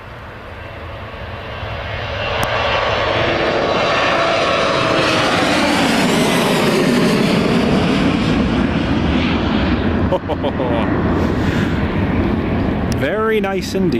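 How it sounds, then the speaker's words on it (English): A Jet2 Boeing 737-800 departs runway 25 at Newcastle Airport, its engine roar swelling from a distant rumble to a loud, sustained blast that holds for several seconds, with a voice talking over it near the end. "Here's the Jet 2 738 going."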